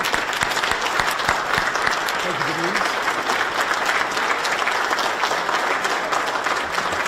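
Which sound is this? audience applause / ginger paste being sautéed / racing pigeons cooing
audience applause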